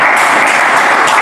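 A church congregation applauds and cheers to acclaim the Lord during a French sermon, a loud, dense and steady wash of clapping that fills the room without pause.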